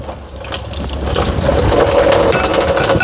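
Tap water runs steadily into a sink while a mortar is being washed, a continuous splashing gush that grows slightly louder and fuller after the first second, with no talk over it.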